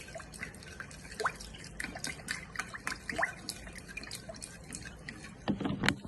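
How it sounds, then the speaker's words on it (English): Challah dough ingredients with salt and honey stirred together in a bowl, giving irregular soft wet squelches and sticky clicks close by, with no talking. "All right, and I'm gonna mix it up."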